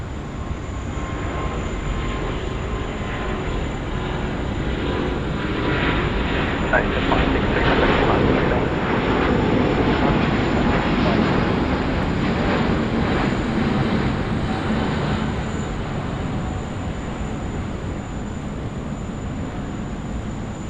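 A China Eastern airliner lands at Sydney Airport, heard as a steady, broad jet roar that swells slightly midway and holds for about twenty seconds, with outdoor background noise.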